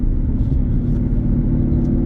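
A 2020 Ford Mustang GT with an intake and MBRP exhaust cruising on a test drive, its V8 giving a steady deep rumble heard from inside the car, loud and continuous with no talk.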